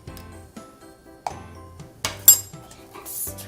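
A mixture stirred in a glass beaker as a series of light clinks and taps at irregular intervals, with a few sharper rings standing out from a quiet background.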